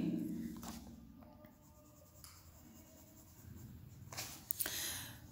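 A crayon rubs across paper coloring a picture of a plum in a classroom activity book, soft close scratching strokes with faint background sounds.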